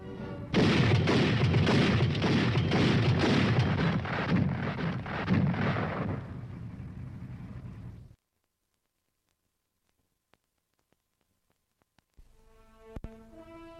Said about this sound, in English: When it is used as a fully automatic weapon, it fires 240 rounds a minute